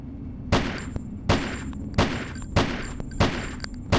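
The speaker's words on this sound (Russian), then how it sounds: "А, ну это, наверное, автомат, полуавтомат, там, одиночные патроны." Single gunshots fire from a semi-automatic weapon in the PC shooter game Hitman: Codename 47, evenly spaced at about one every 0.7 seconds. The six sharp, loud cracks each end in a short decay, and no voices are heard.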